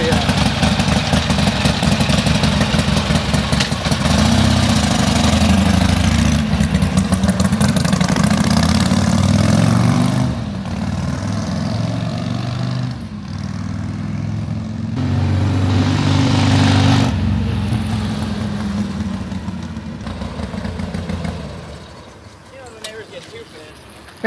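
A 1977 Harley-Davidson Shovelhead motorcycle engine idles loud and close with a steady, lumpy rumble that dips and swells in level, fading toward the end.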